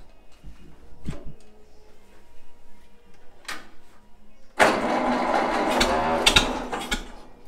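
A 1956 Ferguson TVO 20 tractor, idle for eight years, gets a few clanking attempts before its engine catches midway and settles into a loud, steady running clatter to the end.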